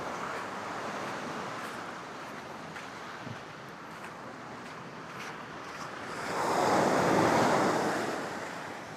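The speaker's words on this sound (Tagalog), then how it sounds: "Ang ganda ng dagat dito." Sea waves at a beach in San Felipe, Zambales make a continuous wash of surf with wind noise, building to a louder breaking wave near the end.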